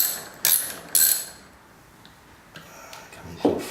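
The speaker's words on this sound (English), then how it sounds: "the locking nut can come off with a socket set. Just remove that locking nut." A socket ratchet clicks in a few short, sharp bursts while loosening a corroded locking nut on an old tap, with quiet gaps between turns and one duller knock near the end.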